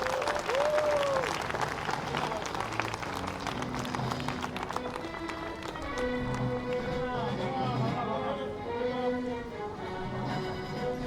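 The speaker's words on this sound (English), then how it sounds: "please give a warm round of applause to our athletes" A crowd applauds athletes at a junior recurve archery finals, sustained clapping with tonal music and voices layered over it throughout.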